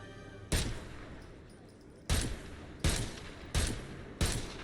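A gun fires in Agents of Mayhem, five sharp loud blasts spaced unevenly about a second apart, each with a short ringing tail and no talk over them.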